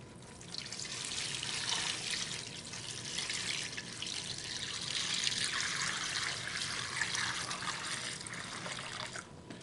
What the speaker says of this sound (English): We're gonna dump this brine right in here.